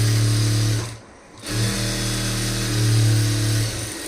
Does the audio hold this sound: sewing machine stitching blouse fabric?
yes